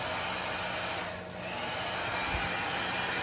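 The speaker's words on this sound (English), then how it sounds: "we're going to use a blow dryer here in just a second" A blow dryer runs loud and steady at close range while a small dog named Pumpkin is dried after a bath, a continuous airy roar that dips briefly before resuming, no talking.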